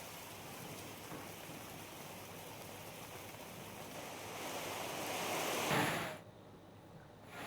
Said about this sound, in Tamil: சூறை காற்றுடன் சுமார் 1 மணி நேரத்திற்கும் மேலாக கனமழை கொட்டி தீர்த்தது